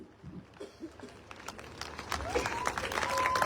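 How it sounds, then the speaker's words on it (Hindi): Audience applause at a motivational speech in Lucknow: a crowd claps in a dense patter that starts scattered and builds steadily louder over a few seconds, with no voice speaking above it. "ताली बजाओ ढंग से"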